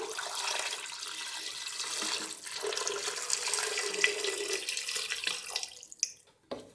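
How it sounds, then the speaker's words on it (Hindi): Four cups of water pour steadily into a pressure cooker holding mutton and sliced onion, a continuous close splashing gush that tapers off with a few drips at the end. "4 कप पानी ऐड कर रही हूँ।"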